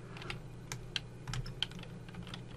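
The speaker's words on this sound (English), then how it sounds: "in the search box here, you want to type Google" A computer keyboard typing a search into the Chrome Web Store box, a soft, close run of uneven key clicks over a low background hum.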